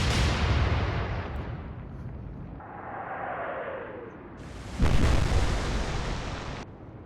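Warship guns in the naval game Atlantic Fleet fire in two heavy, booming salvos, each roaring blast trailing off into a rumble, with a quieter whistling stretch between them.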